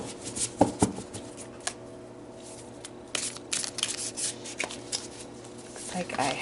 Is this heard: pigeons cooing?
no